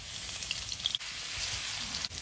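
Old garlic sizzling in oil in a wok, a soft, steady hiss with faint scattered crackles throughout, fairly quiet and without voices.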